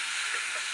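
A paste of mustard, chili and cumin sizzles in hot oil for a moment, a steady, soft hiss from the frying pan with no other sounds.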